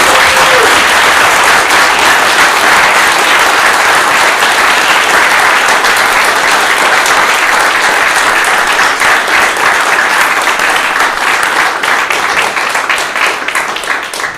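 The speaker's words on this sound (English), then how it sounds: "let's give them a round of applause" An audience at a championship mock trial competition claps in a loud, sustained round of applause that holds steady for about fourteen seconds and tapers only slightly at the end.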